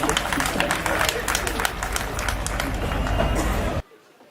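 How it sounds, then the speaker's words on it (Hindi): An audience at a live comedy show claps steadily and densely for several seconds, close and loud, with voices mixed in, before the clapping cuts off abruptly near the end. "ताली बजाइए"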